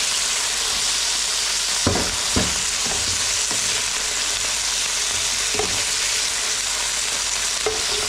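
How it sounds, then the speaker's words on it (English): Pork frying in a pan, an even hissing sizzle close to the mic, broken by a few soft scrapes and taps of a utensil stirring the meat. "need to cook this pork, but it says here for about 2 minutes until golden"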